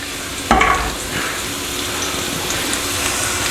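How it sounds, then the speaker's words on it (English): Steady broadband sizzling of garlic frying in a hot pan, starting with a brief louder clatter and hiss, then settling into a constant crackle. "There we go, start to sizzle."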